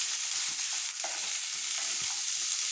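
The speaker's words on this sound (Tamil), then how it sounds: "ஆனியன் சேர்த்துட்டு இந்த கேப்சிகம் அதோட சேர்த்துட்டு நம்ம வந்து லேசாக அப்படியே வதக்கிப்போம்." Onion and capsicum sautéing in hot oil, a steady dense sizzle that fills the whole moment, with faint soft stirring taps underneath.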